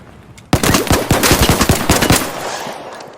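Gunfire in the video game Arc Raiders: a loud, rapid automatic burst of about a dozen sharp shots fired close by, breaking out of near silence and trailing off into a brief echo.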